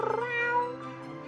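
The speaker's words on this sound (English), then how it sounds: "Looks like I have a cat now." A kitten meows in the horror game Choices: It Lives In The Woods, one drawn-out mewing cry heard close and clear over a steady background tone, with no talking.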